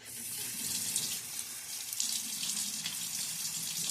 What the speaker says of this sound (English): Splash of water, not a complete rinse.